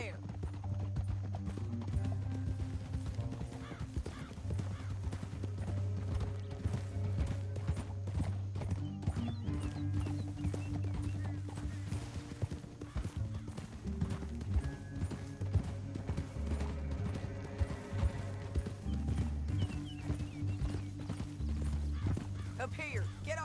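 Horse hooves clip-clopping in Red Dead Redemption 2 as riders move along a canyon trail, steady rhythmic hoofbeats with an occasional whinny, set under game music and character dialogue.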